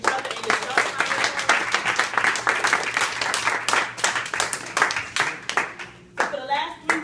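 Students applauding each other after presenting a business proposal at their school; brisk, close clapping from a small group, some children's voices mixed in, fading out near the end as a voice starts speaking.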